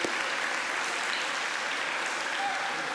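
Sustained, dense applause from a large crowd at a school athletic awards assembly, steady and loud for the full three seconds with no break.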